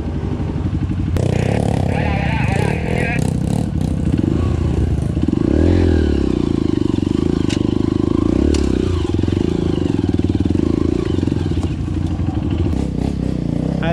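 A motorcycle on a dirt trail pulling away as the clutch is let out, its engine loud and close with a steady throb that rises, along with clattering and scraping from loose ground.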